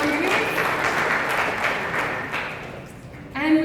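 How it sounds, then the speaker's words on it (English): Audience applause for volunteers at a hackathon event, a dense wash of many hands clapping that fills the room for a few seconds before fading, with a voice starting to speak at the end. "Clap for the volunteers."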